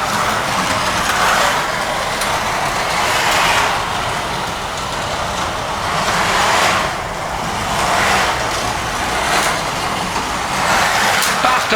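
Carrera Porsche 935 slot cars race laps with a steady high electric whine and rushing hiss that swells and fades every couple of seconds as the cars pass close by, loud and continuous.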